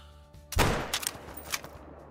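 A single sharp 22-250 rifle shot cracks loudly in the hunting game Call of the Wild, aimed at a javelina about 130 yards away, then rings out and decays over roughly a second.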